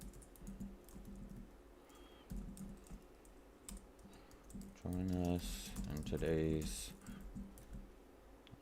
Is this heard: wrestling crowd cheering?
no